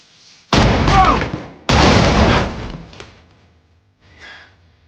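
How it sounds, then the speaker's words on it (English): Two sharp, loud gunshots blast close by about a second apart, each trailing into a brief echo, followed by a faint short noise. "A few gunshots ring out"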